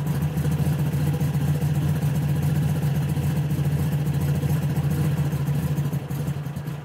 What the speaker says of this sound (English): Alright, there's a slow idle.